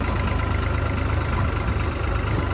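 A tractor engine idles close by, a loud, steady low rumble that runs continuously without any speech.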